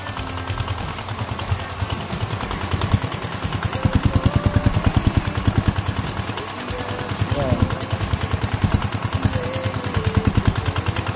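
A large motorcycle engine runs steadily with a loud, rhythmic chugging throb that holds for the whole stretch, recorded close and outdoors.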